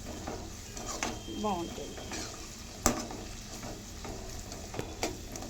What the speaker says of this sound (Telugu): ఇప్పుడు ఆనియన్స్ మనకు ఫ్రై అవుతుంది కదా